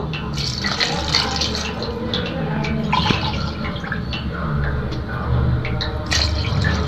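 Water pours steadily into a pot for basmati rice, a continuous splashing fill with some dripping, close by and fairly loud.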